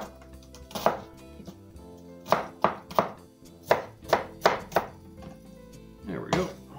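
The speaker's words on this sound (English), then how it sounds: "There we go, one chopped onion." A knife chops an onion on a cutting board in a kitchen, a series of sharp, close knocks, some single and some in quick bursts of three or four, with short pauses between.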